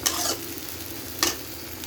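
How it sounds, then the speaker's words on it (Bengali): Taro frying in a karahi until browned and nearly sticking, with two distinct spatula scrapes, one at the start and another about a second later, over a steady close sizzle, with no talking. "আমি দেখুন কীরকম ভাজা ভাজা করেছি কড়াইতে"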